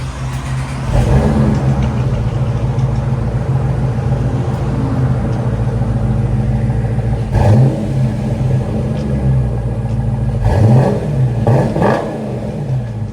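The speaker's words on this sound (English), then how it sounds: "Classic Flowmaster sound." A 2023 Dodge Challenger 5.7L HEMI V8 exhaust with Flowmaster Super 10 mufflers rumbles deeply and steadily, rising into sharp revs around the middle and twice more near the end, loud and close.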